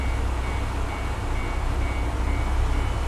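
A steady low rumble of a train idling or rolling slowly at Matsuyama Station, Ehime, Japan, with a faint high whine over constant broad noise.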